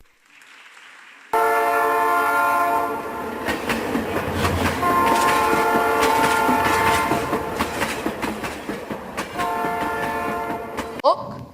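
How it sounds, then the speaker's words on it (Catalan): Train sound effect played during a Christmas school play, a loud rumbling, clattering train with horn blasts that starts suddenly and continues for several seconds before cutting off abruptly. "un tren misteriós va aparèixer enmig de la foscor"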